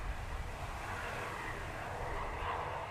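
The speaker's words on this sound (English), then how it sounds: "I can't turn it up anymore because of the plane engines." Steady, continuous engine roar of an airplane at Manchester Airport, loud and unbroken throughout, with a broad rumbling low end and a hiss above.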